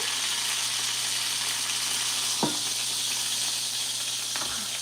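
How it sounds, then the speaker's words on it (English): Steak fat searing in a hot pan gives a steady, dense sizzle and hiss with no talk, and a brief crackling burst flares partway through. "do a quick little sear off on this little fat vein"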